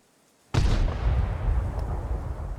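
A tank cannon fires in World of Tanks, from a Type 5 Heavy or E 100 heavy tank: silence, then one sudden loud boom with a sharp crack, followed by a long rumbling roar that stays loud and slowly fades.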